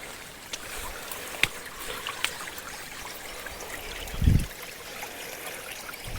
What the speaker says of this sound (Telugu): మీరు సౌండ్ కూడా వినొచ్చు వాటర్ సౌండ్ వస్తుంది